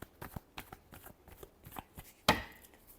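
Tarot cards given a final shuffle during a Leo love reading, with a quick series of close, crisp card taps and flicks and one louder sharp snap near the end, without speech.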